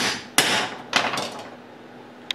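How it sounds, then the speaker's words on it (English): A hammer strikes a clam shell to split it into two halves: two sharp, close knocks followed by a lighter tap and a small final click, with no talking. "hit it with a hammer"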